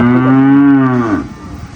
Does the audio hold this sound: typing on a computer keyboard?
no